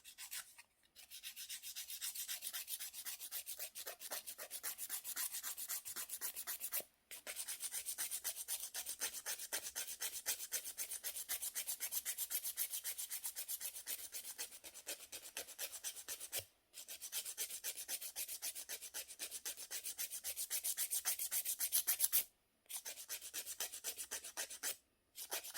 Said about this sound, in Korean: 여기를 좀 더 갈 때 파일을 눕혀서 갈고 여기 할 땐 좀 세워서 갈고